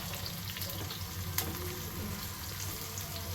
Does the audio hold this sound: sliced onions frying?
yes